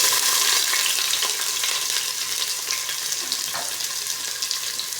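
Chopped onion frying in a hot pan, a steady loud sizzle with light stirring throughout, no voices.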